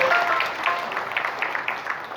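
Audience applause at a FORKABI working meeting in a hotel, a steady wash of many hands clapping at moderate loudness, with faint voices mixed in.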